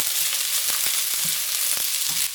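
Sliced red and yellow peppers stir-frying with browned white onions for a beef udon noodle stir fry, giving a loud, steady, close sizzle with a few soft stirring knocks.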